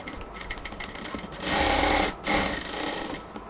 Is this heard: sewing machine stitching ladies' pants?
yes